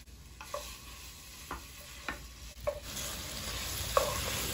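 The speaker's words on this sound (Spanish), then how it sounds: "y freímos el chorizo." Chorizo fries in melted lard in a hot clay pot, a soft steady sizzle with occasional scraping stirs and light taps of a spoon, fairly quiet and with no talking.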